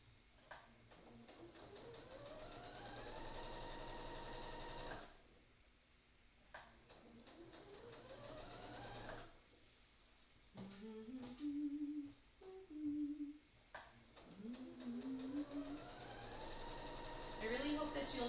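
A sewing machine stitches a slouchy tote bag sewn in the round, running in several bursts of whirring stitching separated by short pauses for adjusting, with some quiet background sounds between runs.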